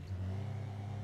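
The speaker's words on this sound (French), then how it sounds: "Tiens, tiens, tiens. C'est une voiture." A car engine in a roleplay video game, a steady mid-pitched rumble with a slight rev as the vehicle drives past close by, with no talk over it.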